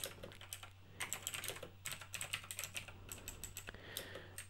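Typing on a mechanical keyboard, rapid clicky keystrokes in uneven bursts and pauses, close and fairly quiet over a low steady hum, with no talking.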